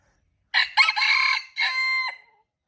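A rooster crows once nearby, loud and clear, a broken multi-part call ending abruptly, with silence around it.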